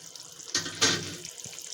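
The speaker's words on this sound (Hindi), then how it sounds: "अब मैं 1 कप पानी डालूंगी इसमें।" A cup of water is poured into a cooking pot of beef keema, making a brief splashing gush in two surges lasting under a second, close and fairly loud over a quiet kitchen background.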